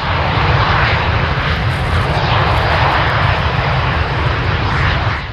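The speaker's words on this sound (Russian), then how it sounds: "Легкие реактивные штурмовики Л-39 уносятся в небо под аплодисменты зрителей." L-39 light jet attack aircraft taking off at a Victory Day air show at an airfield, a loud, steady roar of jet engines that fills the whole clip without letting up, with no voices heard.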